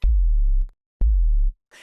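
Two deep dubstep sub-bass notes from Serum 2, each with a quick downward pitch drop from a pitch envelope at the start, separated by a short gap, with a faint noisy blip at the end.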